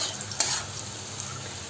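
Chicken frying in a pan is stirred with salt for a desi-style chicken kassa, giving a steady close sizzle with a sharp scrape of the spoon near the start.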